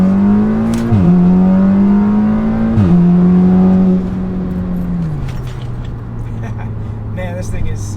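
A turbocharged Audi or VW accelerates hard nearby, its engine note climbing through gears with two distinct upshifts, then settling into a steady lower drone as it cruises on.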